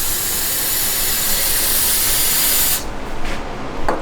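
Fluid is sprayed into a small engine on a supercharged wheelbarrow, a loud, close, continuous hiss that cuts off abruptly, followed by a few short bursts.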